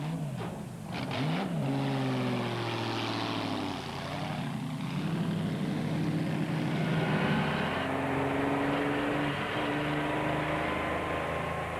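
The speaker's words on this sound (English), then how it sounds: "to give a younger generation the opportunity to see these extraordinary cars in action" Pre-war Auto Union Grand Prix racing cars running at the Donington Park circuit in Leicestershire, a loud sustained engine roar with a rising and falling pitch as the cars pass, a brief sweep near the start, no talk.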